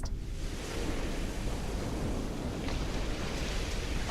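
Ocean waves play as a sound effect during a live stream: a steady, fairly quiet wash of surf noise with no speech, sustained evenly for several seconds.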